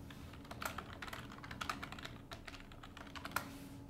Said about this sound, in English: And so let's start typing.